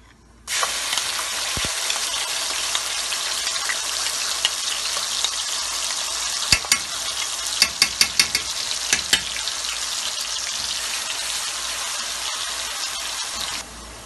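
Spices and cumin seeds sizzle loudly in hot oil in a pan for chilli chicken, a dense steady frying hiss lasting over ten seconds and broken by a few sharp pops and stirring clicks.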